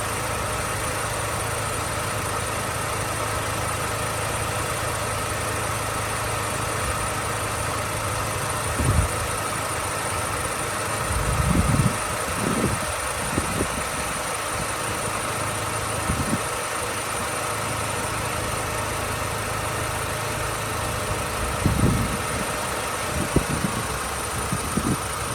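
A 2004 Mini Cooper engine idles steadily and evenly at close range for a long stretch, with a few brief mechanical knocks and clicks partway through and no voices.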